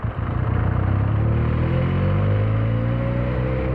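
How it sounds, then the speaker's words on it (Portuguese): A Benelli 302 motorcycle under way on a test ride, its exhaust note climbing steadily as the engine revs up, loud and close with continuous rumble and no speech. "o barulho desta moto é qualquer coisa de especial"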